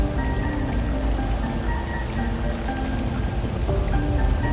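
Rain falls in the GTA 5 video game as a steady, dense hiss of drops on surfaces, with a low rumble underneath. It continues evenly throughout, with no talking.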